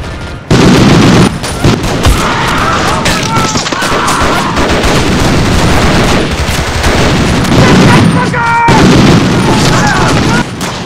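Machine gun turret firing in a war-game battle scene: rapid sustained bursts of loud automatic gunfire with booming impacts, continuous across the whole stretch, with voices talking underneath.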